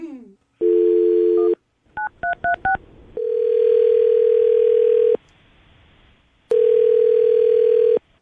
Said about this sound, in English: I'm going to dial your fiance's phone number right now